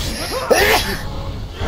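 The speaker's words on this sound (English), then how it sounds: "Sneeze." A single sneeze bursts out sharply in the middle of ongoing voices and background game noise, close and fairly loud.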